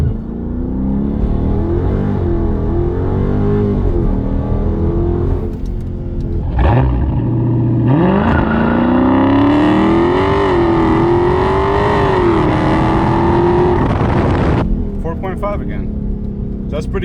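A Dodge Charger Daytona 392 V8 launching under launch control at 2000 RPM, the engine idling with a loud held rumble, then a sharp surge into a rising, roaring acceleration that climbs through gears before cutting back, heard close from inside the car.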